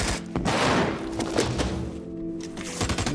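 Gunfire in the America's Army Proving Grounds video game: a quick burst of thumping shots, loud and close, followed by a few scattered softer shots with nobody talking.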